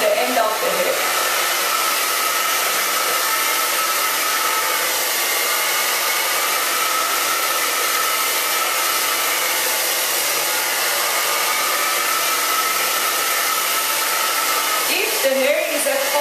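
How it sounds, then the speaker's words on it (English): A hair dryer blows steadily at close range while hair is blow-dried for volume, a loud continuous whoosh lasting the whole stretch with a slight change in pitch near the end. "then start blow drying with the brush"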